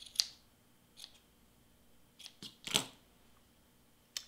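Scissors snip yarn for tassels on a costume skirt: a handful of short, crisp cuts spaced across a few seconds, fairly close and quiet, with no talking.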